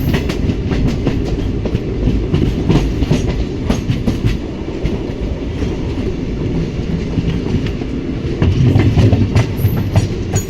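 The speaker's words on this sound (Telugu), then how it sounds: "ట్రైన్ ఉందా? ట్రైన్" A loud, close train rumbles past on the rails near double-line railway works at Mahabubnagar, its wheels clicking and clattering steadily throughout.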